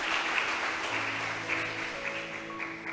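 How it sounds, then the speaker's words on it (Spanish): A church congregation breaks into applause for the Lord during a sermon, a moderate, even patter of many hands with a faint sustained tone underneath and no voices over it. "¿Cuántos le aplauden al Señor?"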